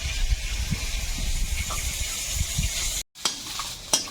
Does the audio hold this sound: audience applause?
no